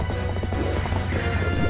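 A horse gallops in the video game Zelda: Twilight Princess HD, with quick rhythmic hoofbeats over a thick, loud game soundscape and a low steady hum.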